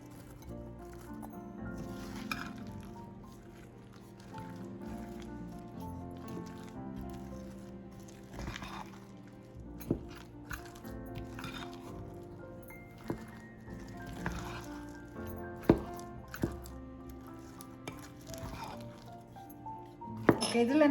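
Apple pieces are folded into muffin batter with soft wet squishing and occasional clinks of a utensil against the bowl, under steady talk.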